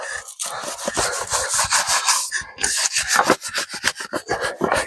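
A brush scrubbing dirt out of car wheel barrels, fast rough back-and-forth rubbing strokes close up, harsh and scratchy with uneven rhythm and no voices.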